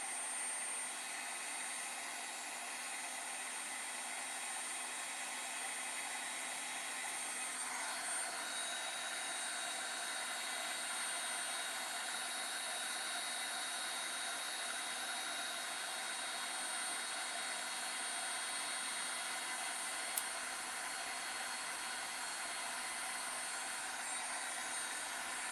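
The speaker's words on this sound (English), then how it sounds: "Heat gun is not quite hot yet." A heat gun runs steadily with a constant, fairly quiet airy whine and hiss, not yet fully hot. No voices are heard.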